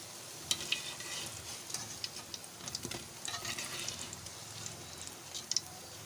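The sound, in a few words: potato and cabbage pakoras frying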